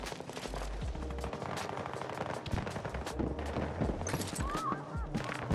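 Gunfire in the shooter video game Battlefield 2042, a dense stream of sharp reports and rapid bursts in a busy battle mix, with game effects and other noises layered throughout.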